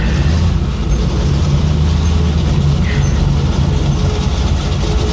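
A 1966 Chevy Impala with a loud exhaust rumbles steadily from inside the moving car, a deep continuous drone with road noise and no pauses.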